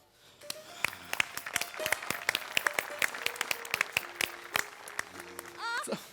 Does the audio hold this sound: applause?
yes